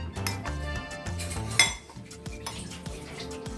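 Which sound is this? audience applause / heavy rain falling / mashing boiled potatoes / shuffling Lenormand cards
mashing boiled potatoes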